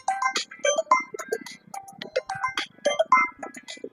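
A mobile phone rings at a busy grain market with a bright, repeating electronic melody, its tones loud and close, with no voices over it.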